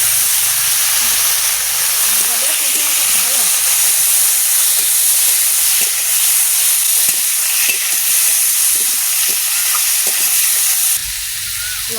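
Tomatoes hit a hot pan for a Bengali puti fish curry with green chillies and bay leaf, giving a loud, steady sizzle and hiss that holds evenly throughout with no talking.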